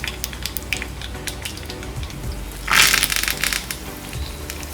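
Cumin, mustard and fenugreek seeds with two chillies crackle in hot oil for a tempering, a steady close sizzle dotted with sharp pops that bursts louder for a moment midway.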